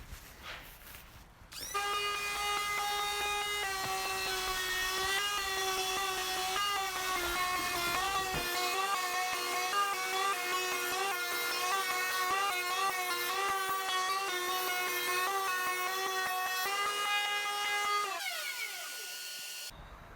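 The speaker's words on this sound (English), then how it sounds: "I'm going to chamfer the inside corners over on my router table" A router on a router table chamfers the inside corners of pallet wood pieces, a loud, steady high-pitched whine running for about sixteen seconds with small pitch dips as the bit bites the wood, with no talk.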